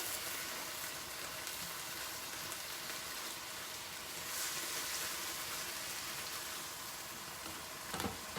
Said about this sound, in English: I'm gonna cook these mushrooms down